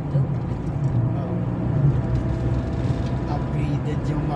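Blue car with a loud upgraded exhaust muffler on the SLEX–Skyway expressway, a dense continuous low engine and road roar heard from inside a nearby vehicle, with someone talking over it.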